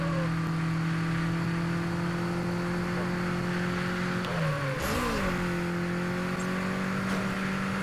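A tuned import car's engine in the Super Street racing game holds a steady high drone, then briefly dips and swoops in pitch around a gear change before settling back into a loud, continuous whine.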